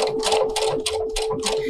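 A Brother sewing machine stitches decorative stitches in a steady, loud, close run of rhythmic mechanical chattering pulses over a constant motor hum, with no talking.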